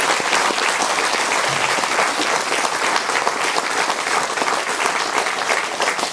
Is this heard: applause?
yes